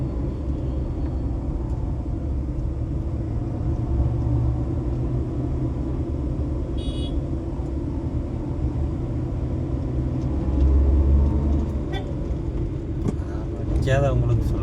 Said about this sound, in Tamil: பயங்கர டிராஃபிக்.